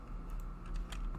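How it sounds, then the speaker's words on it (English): A computer keyboard clicks in a few soft, quick keystrokes, faint beneath a steady low hum. "He's typing."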